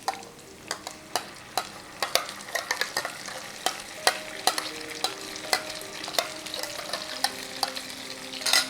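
A ground onion-tomato paste for dhaba-style kadai paneer fries in a pan while a spoon stirs it, giving a steady run of sharp scraping clinks over a continuous sizzle, close and unaccompanied by voices.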